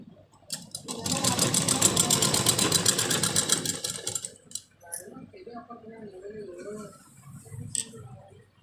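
Sewing machine stitching a lined blouse runs steadily for about four seconds, then stops while someone talks quietly over some light handling noise.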